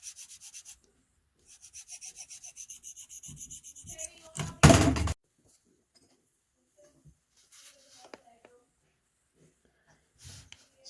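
Blade of a SOL Phoenix survival tool drawn across a sharpener, a series of short rhythmic rasping strokes, then one longer harsh scrape, followed by near silence with faint handling noises.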